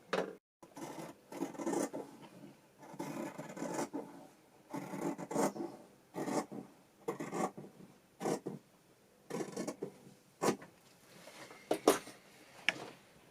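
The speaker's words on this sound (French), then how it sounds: "Et je vais couper sur le tracé." Cardboard is cut along a traced line in short, scraping, rasping strokes, repeated irregularly with pauses between them, close and fairly quiet.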